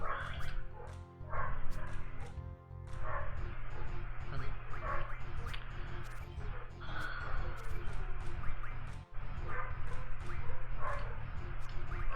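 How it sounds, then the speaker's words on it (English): Several dogs bark repeatedly throughout, with bow-wow barks and yips fairly close, over a steady low background hum from a Final Fantasy VIII game session; no one talks. "probably you're hearing the special guests right now, the dogs"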